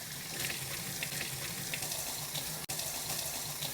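Sliced vegetables rinsed under a running kitchen tap, a steady gentle stream of water splashing into a sink, quiet and close, with one brief cut-off midway.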